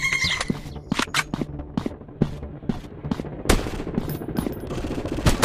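Rapid bursts of gunfire in a PUBG-style first-person shooter game, with sharp repeated shots and short automatic volleys, loud and close, mixed with game effects and scuffling movement, no talk.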